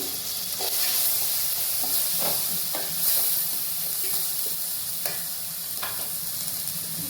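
Tomatoes and grated potato frying in a pan for potato fried rice, giving a steady, close sizzle and hiss with occasional soft stirring scrapes and clicks, no voices.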